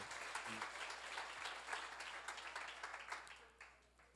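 Church seminar audience on Genesis applauding, a dense spread of clapping at moderate distance that stays steady and thins slightly at the end, with a brief low tone near the start.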